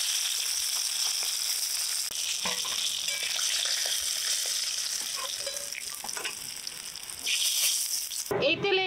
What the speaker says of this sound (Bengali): মাছের মাথা কড়া করে ভেজে নিলাম